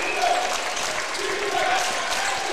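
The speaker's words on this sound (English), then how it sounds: "Crowd has come alive along with the Cougar bench." A community college basketball crowd in a gymnasium cheers and applauds along with the bench after a go-ahead basket late in the game, a loud continuous roar of clapping and shouting.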